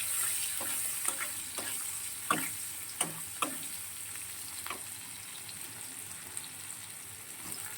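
A small chopped onion frying in oil with black cumin seeds, a soft steady sizzle broken by a handful of sharp spatula clicks against the pan, fairly quiet and alone.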